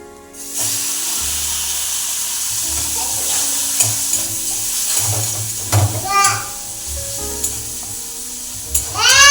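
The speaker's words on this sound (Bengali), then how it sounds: "মাছের তেল ছিল একটু মাছের তেলটা ভেজে নিচ্ছি" Fish fries in hot oil in a home kitchen, giving a loud continuous sizzle with bursts of spitting crackle and a few clanks of utensils, while low background sounds and some voices rumble underneath.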